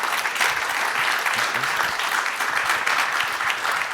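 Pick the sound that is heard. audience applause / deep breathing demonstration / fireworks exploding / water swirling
audience applause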